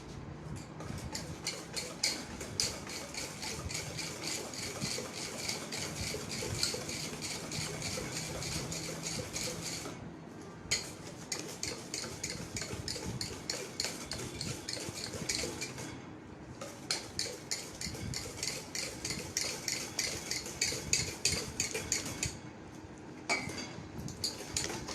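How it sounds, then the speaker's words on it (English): Whisk beating sugar in a bowl, a fast, steady clatter of metal against the bowl going on and on at close range, broken by a few short pauses. "We're going to whisk it until the sugar is dissolved properly."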